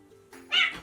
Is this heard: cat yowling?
yes